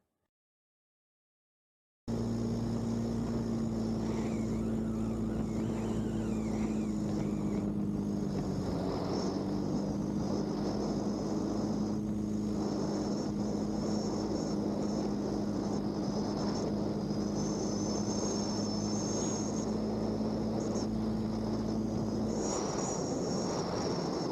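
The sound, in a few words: light airplane on landing approach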